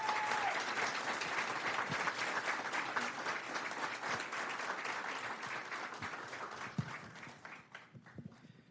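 Warm audience applause at a city council meeting award presentation, loud and sustained at first, then thinning out as scattered claps fade toward the end.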